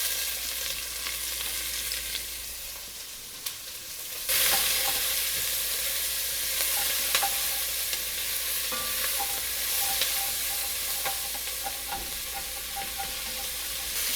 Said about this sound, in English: now we're going to add in a little bit more oil. I'm going to go ahead and add in our onions